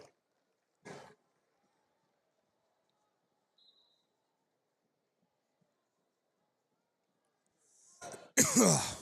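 A single short cough near the start, then quiet, with a louder burst of noisy coughing or throat clearing at the very end.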